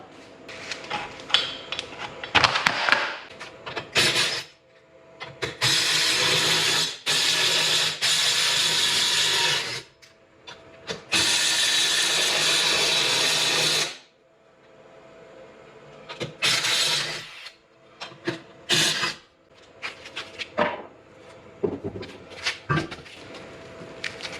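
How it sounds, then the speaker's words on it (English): Mechanical clattering and whirring from a car wheel being taken off, with bursts of a power tool or ratchet spinning, pausing, then starting again. "I'll pull this wheel off."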